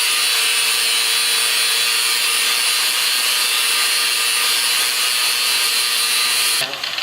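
Power grinder working metal in a shop, a loud, steady high-pitched whine with harsh abrasive hiss running without pause, close by, cutting off abruptly near the end; no talking.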